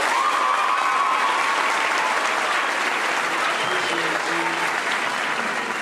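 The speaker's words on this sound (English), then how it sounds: "To give the best applause we can for our beloved parents for all the support that they've given us." Loud, sustained applause from a large audience at a secondary school prize-giving ceremony, clapping dense and steady throughout, with faint voices briefly audible beneath it.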